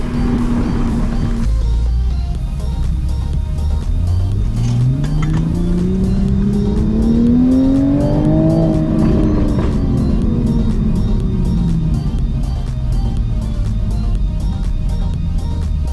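A 2020 Toyota Supra fitted with CKS suspension is driven hard with traction control off, its engine revving up in a long rising sweep that peaks and then falls away, loud and close throughout.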